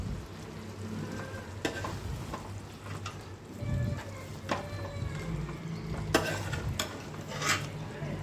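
Chicken handi curry bubbles and simmers in a pan, a steady low sizzle with occasional stirring scrapes and clinks throughout, fairly close and even in level.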